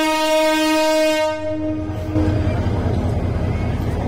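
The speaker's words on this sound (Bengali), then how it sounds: "এখন রেলগাড়িটা ছেড়ে দিবে" At a Bangladeshi railway station in the evening, a departing passenger train sounds a loud, sustained horn for about two seconds, then settles into a rumbling roll as it pulls away.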